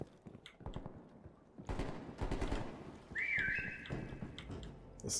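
A whistle rings out in a shooter video game, a brief rising-then-steady tone that cuts through dense gunfire bursts and rattling machine-gun fire in a loud, chaotic firefight.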